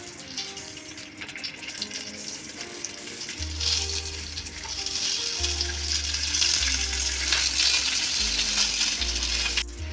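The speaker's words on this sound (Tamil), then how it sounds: "நம்ம ஸ்டஃப் பண்ணி வச்சுருக்க வெண்டைக்காவை ஒன்று ஒன்றா கடாயில் போட்டுக்கலாம்" Stuffed okra (vendaikkai) frying in hot oil in a kadai, a steady bright sizzle running throughout with low hum beneath and no talk.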